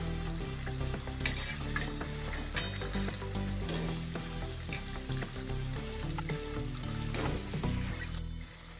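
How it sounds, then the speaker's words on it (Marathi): Shankarpali, crisp Marathi flour sweets, frying in oil on low heat, a steady bubbling sizzle with scattered clinks and scrapes of a utensil in the pan, close by with no talk. "आपण मंद आचेवरच तळून घ्यायच्या।"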